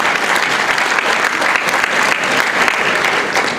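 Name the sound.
applause at a gala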